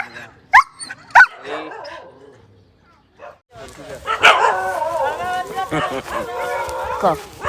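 A dog gives two sharp, close barks near the start, then a pause and a few soft whimpers, followed by people talking loudly over the rest.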